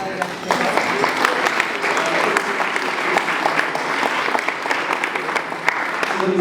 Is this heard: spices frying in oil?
no